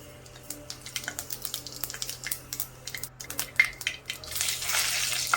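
Cumin and mustard seeds crackle and pop in hot oil in a kadhai for tempering, with faint, scattered ticks that build into a louder, steady sizzle near the end.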